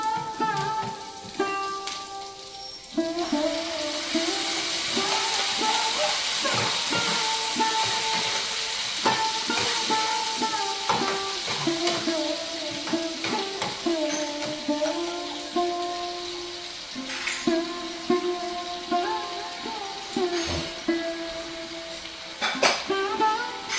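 Onion, garlic and tomato paste frying in a pan, a steady sizzling hiss with scattered pops and crackles throughout, occasional clatter of a utensil.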